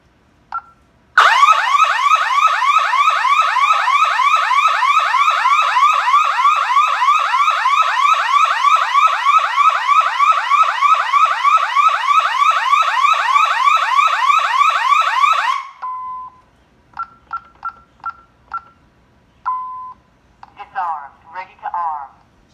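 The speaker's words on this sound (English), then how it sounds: "That was a loud siren." An ADT Safewatch Pro 3000 security alarm siren blares loudly and steadily in a rapid warbling pulse for about fourteen seconds, then cuts off to leave brief beeps and a few spoken words.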